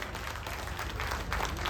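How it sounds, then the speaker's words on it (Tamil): An audience at a film success meet celebration claps in a dense, steady wash of applause that runs through the whole moment at a moderate level. "ஒரு பெரிய கைத்தட்டல் கொடுத்துடலாம்."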